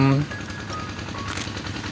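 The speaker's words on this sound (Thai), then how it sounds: "ก็ต้องเจาะบ่อบาดาลครับ" A drilling rig boring a groundwater well in a village makes a steady, harsh rattling and grinding, fairly loud and continuous, with someone talking over it at the start.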